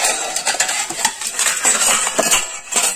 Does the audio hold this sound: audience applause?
no